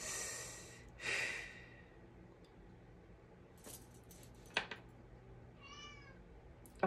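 A house cat gives a single soft, close meow late in the sequence, amid quiet room tone, breathy sounds and a few faint rustles.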